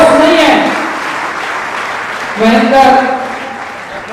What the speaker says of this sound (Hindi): तो ऐसी प्रतिभा के लिए जोरदार तालियां होनी चाहिए, गड़गड़ाहट के साथ में